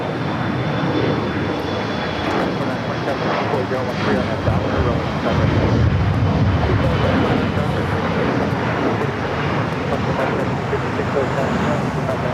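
A passenger plane at LAX bound for San Luis Obispo roars steadily nearby, its engine noise broad and continuous, with a slight swell midway, and a person talks faintly beneath the rumble.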